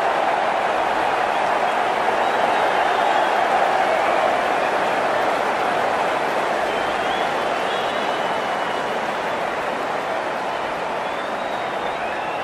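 A stadium crowd cheers and roars in the Cricket 19 video game, a dense, steady wall of noise that holds loud for the whole stretch with no clear breaks.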